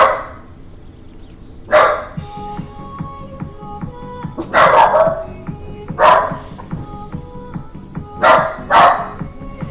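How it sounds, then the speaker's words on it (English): Several dogs bark in short separate bursts at close range, with yips between them, over a quiet indoor background. "Sorry, you can hear the dogs."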